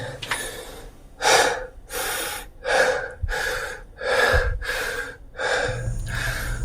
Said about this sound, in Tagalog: Kapos po talaga sa hangin dito sa ilalim no, kaya ganito yung estilo ng paghinga natin.